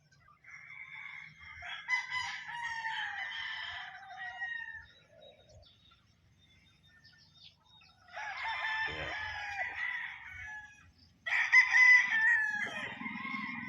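Chickens on a poultry farm crow and cluck nearby in several drawn-out bursts, with quiet gaps between calls.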